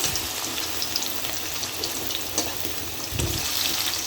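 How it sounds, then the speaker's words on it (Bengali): Potatoes fry in hot oil in a pan, a steady, dense crackling sizzle that stays continuous and close throughout with no talking. "এই তেলের ভিতরে আলুগুলো ছেড়ে দিয়ে আলুগুলো ভালো করে ভাজা ভাজা করবো"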